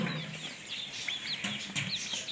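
Chickens cluck and peep while competing with ducks for scattered feed, a busy layer of short chirpy calls up close over steady outdoor background noise.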